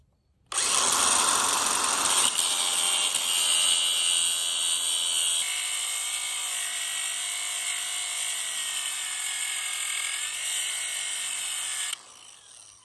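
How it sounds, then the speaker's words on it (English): A battery-powered grinder grinds burrs off the back of a metal target stand, a loud, steady high-pitched whine with a harsh metallic edge that holds for about eleven seconds and then stops, with no talk. "Now we grind off the rest in the back."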